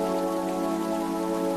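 Steady rain falls as the backdrop to a sleep story, a dense, even hiss with soft, sustained musical tones beneath it and no voices.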